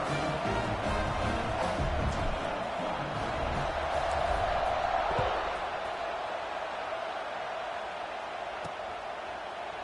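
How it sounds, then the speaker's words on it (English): A football stadium crowd at a college game roars as the kickoff approaches, a broad sustained wash of noise that swells near the middle before settling to a steady murmur, with a commentator talking over it. "this crowd now ready to get behind them"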